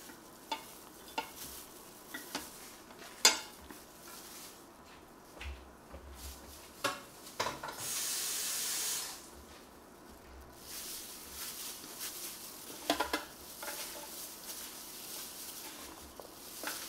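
Meat sizzles and fries in a pan for egg rolls, with repeated stirring and scraping strokes, a few sharp clatters and a brief louder burst of hissing midway, fairly close and with no voices.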